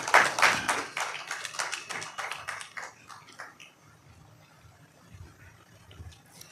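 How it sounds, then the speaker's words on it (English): Audience clapping at a technical workshop as a speaker comes up, a fairly sparse round of individual claps that is loudest at first and then thins out and fades into a quiet room. "Let's clap for her as she comes."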